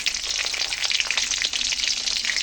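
Garlic, bay leaves and dried chilies frying in hot oil with whole five-spice seeds for a raw mango pickle, a loud, dense, continuous crackling sizzle close up.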